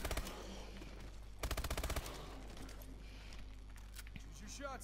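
Automatic gunfire from a weapon in Call of Duty EXO Zombies, a bright rapid burst standing out near the middle amid continuous game noise, with a person talking over the action.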